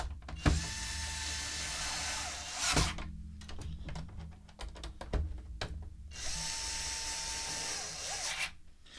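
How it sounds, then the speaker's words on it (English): An Amazon Basics electric screwdriver whirs in two sustained bursts at the start and end, driving screws into a printer, with clicks and handling taps of parts in the quiet gap between. "I love this Amazon Basics electric screwdriver"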